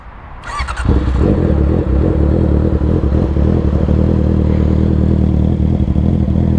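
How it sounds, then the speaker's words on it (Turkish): A Honda CBR650R motorcycle engine fires up with a clattering start, then idles loud and close with a deep, throbbing exhaust rumble that stays steady throughout. "ben size sesini dinleteyim egzozun"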